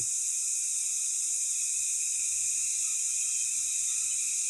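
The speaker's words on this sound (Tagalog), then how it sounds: "yung tunog ng mga kulisap" A dense, continuous high-pitched buzzing of insects fills a forest, steady and bright with no voices present.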